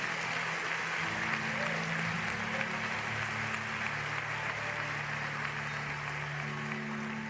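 A church congregation at a Portuguese-language service applauds the Lord in a sustained, dense wash of clapping, with a low musical hum underneath.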